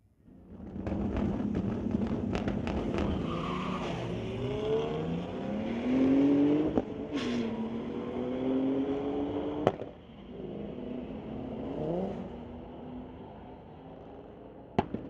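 Street-legal drag race between a BMW and a 1998 VW: engines rev and roar through rising gear pulls as the cars launch and speed away, with sharp pops and bangs near the middle and end.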